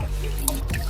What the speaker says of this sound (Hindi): यह पहाड़ के विचों एक चश्मा आ रहा